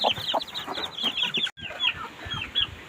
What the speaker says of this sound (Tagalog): Kasi yung alaga nating puting manok, nagpisa na siya.